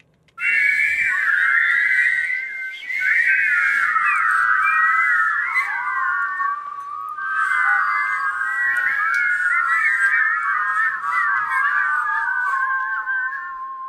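Many children's whistling recordings layered into one chorus: sustained, wavering high whistles overlapping loudly and continuously, with a short break near the middle before the blended tones resume.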